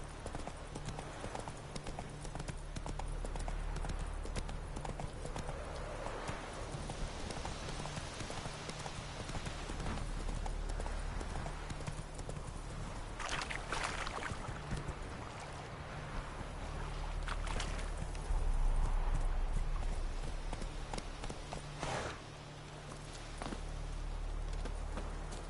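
Horse hooves clip-clop steadily at a trot in The Witcher 3 game, a continuous rhythmic patter under low game ambience and music, moderately loud throughout.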